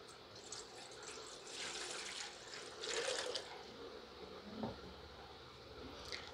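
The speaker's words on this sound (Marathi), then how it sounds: "हे उकळून थंड केलेलं पाणी आपण स्वच्छ पातेलं घेतले, त्याच्यामध्ये हे उकळून थंड केलेलं पाणी ओतणार आहे" Boiled and cooled water is poured into a clean pot at a primary health centre, a soft splashing stream that swells twice before tapering off, quiet and close with no talk.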